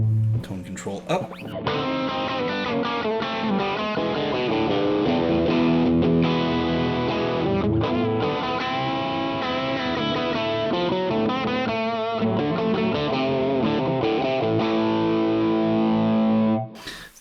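Electric guitar played through a True North Tweed Drive distortion pedal with the tone control turned up, producing a loud, sustained overdriven stream of chords and riffs for about fifteen seconds.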